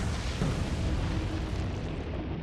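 A torpedo explosion sinks the U-boat U-512 in the naval video game Atlantic Fleet, heard as a steady, muffled, rumbling roar that holds without a sharp attack. No voices.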